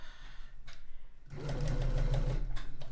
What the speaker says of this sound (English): I'm going to start sewing down to this pin